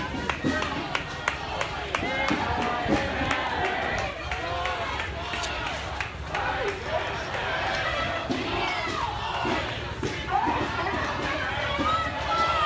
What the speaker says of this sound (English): you can hear some clapping. There's a neighbor cheering people on.